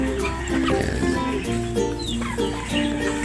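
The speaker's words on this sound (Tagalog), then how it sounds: "Tapos may mga manok din doon sa kabila." Several chickens cluck and murmur close by in a continuous chatter, with a few sharper calls over steady background noise.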